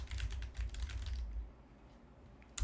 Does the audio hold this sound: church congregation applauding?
no